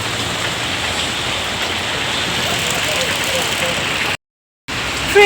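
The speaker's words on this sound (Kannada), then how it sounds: "ಮಳೆ ಬರ್ತಾನೇ ಇದೆ" Heavy rain pours down in a dense, steady hiss that stays loud and even, with a brief silent gap near the end.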